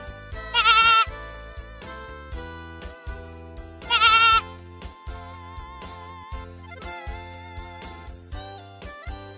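Goat bleating twice in loud, wavering bursts over a busy musical backing, the calls separated by a few seconds.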